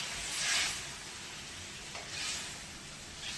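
Curry sizzles in a pan on a home kitchen stove, a soft steady hiss with two louder frying surges rising and easing, no voices.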